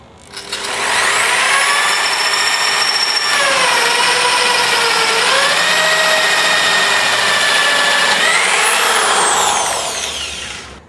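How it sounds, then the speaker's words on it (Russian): A power drill whirs loudly and steadily for several seconds, its motor pitch dipping and rising as it bores through, then winding down. "После этого мы сверлим отверстие второе"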